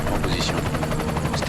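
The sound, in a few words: enemy helicopter in video game Deus Ex: Mankind Divided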